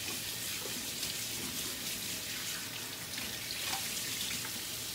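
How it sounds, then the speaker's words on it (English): Running tap water splashes steadily over a hand being rinsed, a continuous close hiss with faint drips and no talking. "Rinse my hand off real quick."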